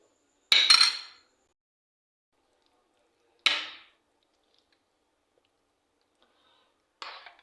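Bottle gourd stirred into whisked yogurt for raita with a spoon in a bowl, giving three short separate scraping clinks spaced a few seconds apart with silence between, close and fairly soft.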